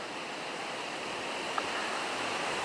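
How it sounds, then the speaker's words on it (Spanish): Ocean surf at a surfing contest in Pantín, a steady broad wash of breaking waves rolling continuously at a distance, with no voices over it. "Hay olas para todas, aquí nos las podemos repartir."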